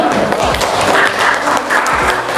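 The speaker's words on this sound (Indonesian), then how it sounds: "Ya, beri tepuk tangan dulu." Indonesian students in a classroom give a burst of applause, dense and continuous hand clapping from many people at once, fairly loud and close throughout.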